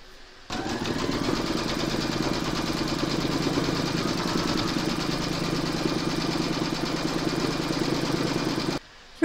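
A home embroidery machine stitches a round on fabric in a hoop, a steady rapid mechanical chatter and motor hum running continuously for several seconds, then stopping abruptly.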